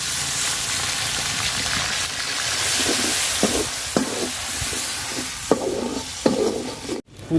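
Ground spice paste sizzles in oil with reddened fried onions, cardamom and cinnamon for vegetable khichuri, under a steady crackle with intermittent scraping stirs of a spoon against the pot.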